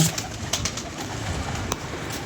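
Pigeons coo softly in short, scattered calls over a steady, hissing background. No one speaks.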